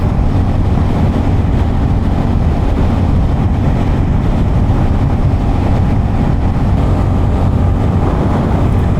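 A continuous loud roar from a 2023 Suzuki SV650 motorcycle exhaust at high revs, around 5,000 rpm, mixed with rushing wind buffeting, unbroken and droning throughout.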